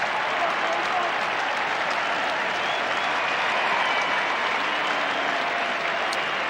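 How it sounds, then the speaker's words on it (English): A large football crowd at a grand final in a packed stadium applauds steadily and warmly as a player leaves the field, a dense, even wash of clapping from many hands with faint voices mixed in. "Justin Blumfield will get a very warm round of applause as he comes off"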